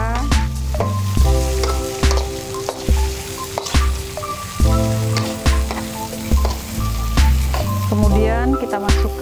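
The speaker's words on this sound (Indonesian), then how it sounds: "kita masukkan tomat beserta potongan cabai hijau. Kita aduk hingga rata." Tomato, green chili and shallots stir-fry in a pan for an oncom dish, a close, continuous sizzle broken by scraping stirs, with steady tonal music running underneath.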